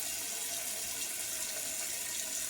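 Water runs steadily from a kitchen tap, rinsing chicken giblets in the sink, a continuous close hiss with no voices.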